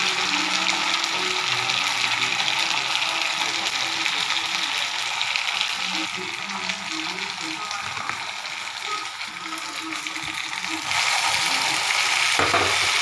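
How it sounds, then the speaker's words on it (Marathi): Chopped tomato sizzles and fries in hot oil with ginger-garlic paste, a steady close crackling hiss with occasional stirring scrapes and a brief louder burst near the end. "त्यानंतर आपण त्यामध्ये टमाटर टाकूया कापलेला."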